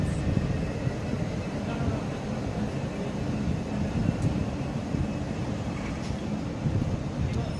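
A train numbered 36204 pulls away from Southall on the Great Western Main Line, bound for Penzance, a steady, heavy low rumble that holds evenly from start to finish.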